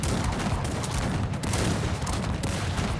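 Dense, continuous massed musket and cannon fire from a Cossacks 3 battle on the Cossacks/Ukraine campaign, a loud, unbroken crackling roar of overlapping volleys with no pauses across the whole stretch.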